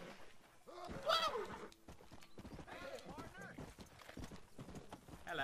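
Horse hooves clip-clop at a gallop across open ground in the Western game Red Dead Redemption, a steady rhythmic beat running throughout beneath a voice, with a horse whinnying briefly.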